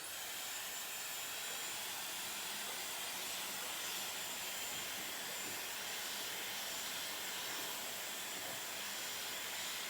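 Dyson Airwrap hair styler fitted with large barrels, running on its top airflow and top temperature setting, gives a constant loud whooshing roar of air that holds steady throughout, with no speech.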